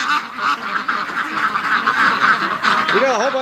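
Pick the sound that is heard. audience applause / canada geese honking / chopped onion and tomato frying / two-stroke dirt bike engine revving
canada geese honking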